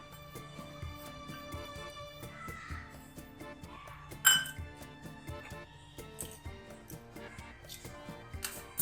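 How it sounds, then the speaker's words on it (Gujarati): Finely chopped jaggery tipped from a bowl into a pan of tamarind chutney: close, bright metallic clinks and taps of utensils against the pan, scattered and irregular, with one sharper clatter midway and no talking. "તો એ ગોળ નાખી દઈએ આપણે।"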